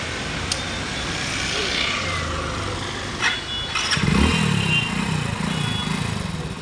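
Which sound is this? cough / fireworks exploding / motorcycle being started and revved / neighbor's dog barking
motorcycle being started and revved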